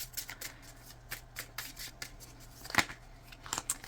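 Oracle cards being shuffled by hand, a run of soft papery riffles and slides with one sharper snap near the end, close and fairly quiet, with no talking.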